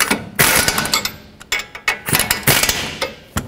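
Rapid ratchet clicks run down strut mounting nuts on a 2009-2013 Honda Fit in a garage, loud and close, coming in repeated bursts of fast clicking with short pauses between strokes.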